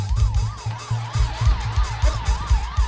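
Ambulance siren wailing in a steady rising-and-falling sweep as the vehicle arrives, close and loud, over rhythmic low thumping from the engine or music, with no talking.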